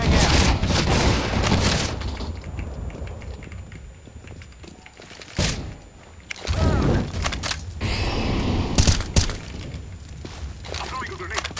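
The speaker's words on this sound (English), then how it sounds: "Flashbang out." In a video game, flashbang grenades burst amid gunfire, producing loud, harsh cracks and booms with dense crackling shots, continuous and close, with sharp bangs near the middle.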